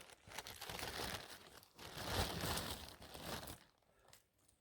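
Oyster mushrooms with their stems trimmed go into a plastic bag, giving close, loud crinkling and rustling of the plastic in bursts that fade near the end.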